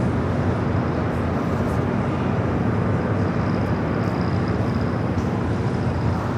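A Turkish airliner rolling down runway 25 right at Los Angeles airport, a steady broad engine roar heard from a distance, continuous and unchanging in level throughout.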